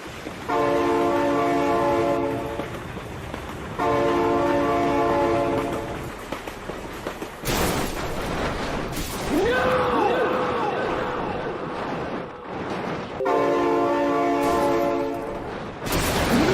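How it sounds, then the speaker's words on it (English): Train horn blasts sound repeatedly over the rumble of a passing train, loud and near, with a sweeping whistle-like tone in the middle, as vehicles are moved along a route. "Oh my god, train!"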